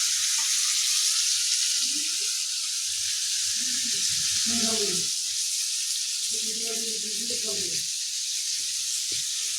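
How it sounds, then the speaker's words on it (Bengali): Shrimp frying slowly in oil, a continuous close sizzle and hiss running the whole time while a person talks over it in short bursts. "মাছটা ভাজা হোক আস্তে আস্তে।"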